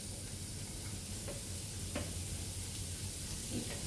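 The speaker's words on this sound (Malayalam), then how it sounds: "വഴറ്റിയെടുക്കാം." Green chillies sautéing in a hot pan for chicken cutlets, giving a steady close sizzle with faint stirring scrapes throughout.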